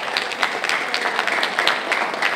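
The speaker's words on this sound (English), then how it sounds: "Wherever you are, clap for yourself." A gathered audience at an education briefing claps, an even, moderate patter of many hands with a few sharper individual claps standing out, continuous and fairly close.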